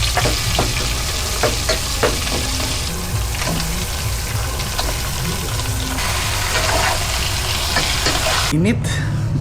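Food sautéing hard in a pan on an outdoor cooking area, a steady loud sizzle with occasional stirring clinks throughout, a voice talking faintly underneath.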